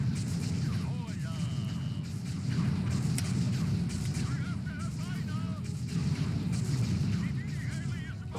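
Rapid gunfire and booming blasts in a video game, steady bursts of shots over a dense rumbling battle bed, with players talking over the noise.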